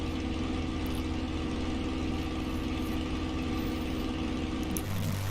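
A Spitfire L.F. Mk IXc engine in a VR flight simulator game drones steadily at a constant, loud pitch, with a slight shift in tone near the end.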